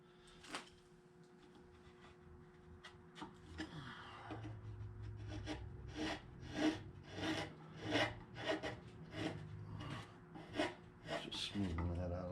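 A wooden eagle carving is smoothed by hand with a rasp or abrasive, giving a close run of rhythmic scraping strokes that grow steadier and louder toward the end.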